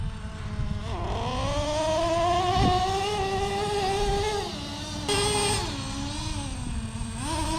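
A Traxxas T-Maxx 3.3 RC truck's nitro engine, running rich and sluggish during break-in, holds a loud, sustained high-pitched buzzing whine at full throttle for several seconds, its pitch wavering slightly.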